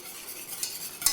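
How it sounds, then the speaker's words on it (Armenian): A spoon stirs chantilly cake batter in a bowl, making a soft, continuous swishing scrape close by, ending in a brief light clink, with no one talking. "ուրեմն սա այսպես խառնում ենք"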